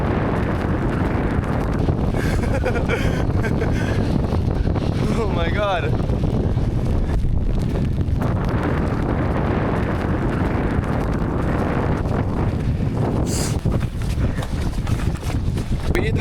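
Strong wind on an open plateau roars and buffets the microphone continuously, with a voice briefly exclaiming under the rushing gusts.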